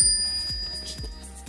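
A bright bell chime rings out as a notification sound, its tones ringing clearly and steadily over low thumping hits that recur about every half second.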